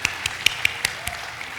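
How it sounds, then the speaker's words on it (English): A few scattered claps at a commencement send-off, about six sharp separate hand claps spread over under two seconds, fairly close and moderately loud against quiet room tone. "Let's give a round of applause"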